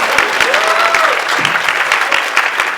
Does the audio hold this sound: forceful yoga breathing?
no